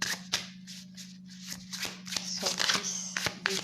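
Tarot cards being shuffled by hand for a summer solstice reading, a close run of quick papery riffles and slaps with brief pauses between bursts, alone.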